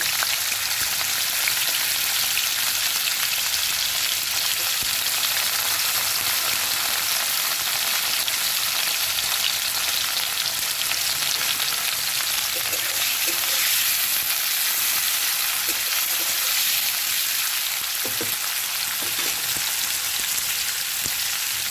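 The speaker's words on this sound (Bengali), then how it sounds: "তেলটা গরম হয়ে গেছে প্রথমে আমি করলাটাকে ভেজে" Bitter gourd fries in hot oil in a wok, giving a loud, dense, continuous sizzle that holds steady throughout, close up with a few faint clinks near the end.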